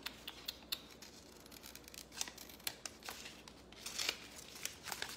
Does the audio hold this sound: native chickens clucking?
no